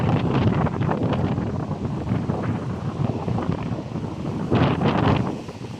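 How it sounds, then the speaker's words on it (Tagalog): Big sea waves churn and crash under a roaring typhoon wind that buffets the microphone steadily, with a louder surge near the end; no one speaks. "Walang grabe yung alon."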